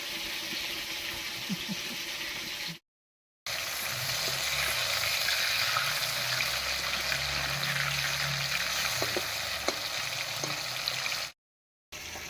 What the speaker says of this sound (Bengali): অনেকগুলো মাছ ভাজতে বেশ খানিকটা সময় লাগে